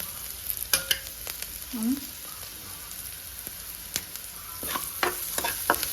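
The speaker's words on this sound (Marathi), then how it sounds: "पाव चमचा हळद टाकूया चांगलं मिक्स करून घेऊ" Turmeric is stirred into fried onions in a pan while making semolina upma, with a light sizzle and sharp intermittent clicks and scrapes of a spoon against the pan.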